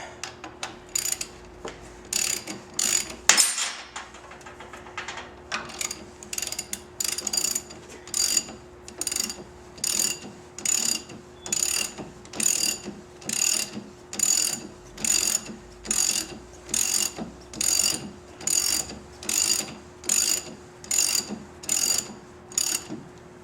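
A ratchet tightens the front wheel axle on a Victory XC motorcycle, clicking in a fast steady rhythm through repeated bursts with short pauses between them, close and clear with no talk.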